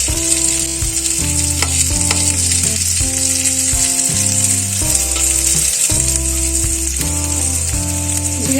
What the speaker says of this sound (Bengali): জিরেটা ভালো ভাজা হয়ে গেছে,